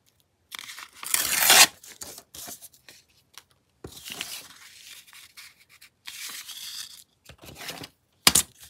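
Paper tears in several short rips with some crinkling between them, close and quiet, and one sharp tear comes right at the end.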